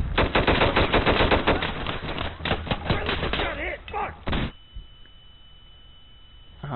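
Rapid automatic gunfire in the video game Insurgency, loud and close, with dense bursts of shots for several seconds that then stop abruptly, leaving a quiet hum.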